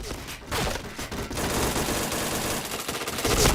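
Rapid bursts of gunfire from a shooter video game, dense and loud, with overlapping shots in quick succession.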